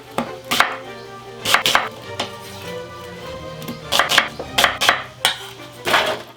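Unpeeled onions are roughly chopped with a knife on a cutting board for a coq au vin stock, producing loud, close, irregular thunks that come singly and in quick clusters.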